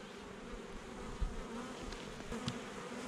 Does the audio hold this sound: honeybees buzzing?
yes